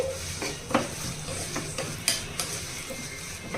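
Mustard-seed tempering spices and asafoetida sizzle and crackle in a hot pan, with a few sharp clinks of a spoon against metal as they are stirred.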